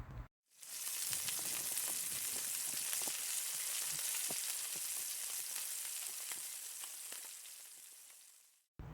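Ginger frying in hot cooking oil in a pan, a steady, dense sizzle that carries loud and unbroken with scattered crackling pops, no talking.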